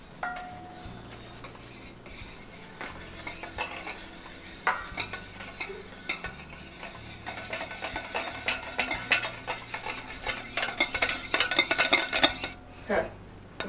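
Cake batter being stirred in a bowl at home, a spoon clinking and scraping against the bowl in irregular strokes that grow busier and louder toward the end, no voices.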